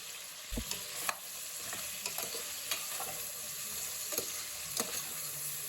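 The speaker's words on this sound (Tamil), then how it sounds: "தலைக்கறி சேர்த்துட்டு கூடவே இஞ்சி பூண்டு பேஸ்ட்டு, மஞ்சள் தூள், உப்பு சேர்த்து நல்லா வதக்கி விட்டுறலாம்" Goat head meat sautéing in a pan with ginger-garlic paste, turmeric and salt, a constant soft sizzle broken by repeated scraping stirs of a spoon, close and steady, no talking.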